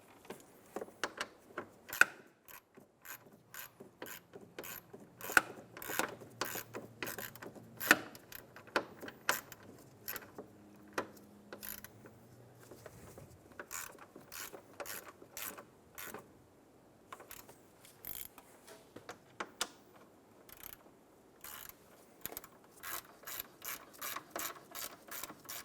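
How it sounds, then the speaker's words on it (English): Ratcheting on fan assembly bolts of a 2003-2007 Infiniti G35 during alternator replacement: quiet, quick clicking runs of a ratchet wrench in repeated bursts with short pauses, close by and without talk. "Install the bolts for the fan assembly. And then snug them down."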